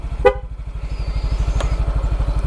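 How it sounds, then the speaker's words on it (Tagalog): A short, sharp beep from an aftermarket Domino loud horn on a motorcycle sounds once over the rapid, close thrumming of the idling motorcycle engine. "And then loud horn."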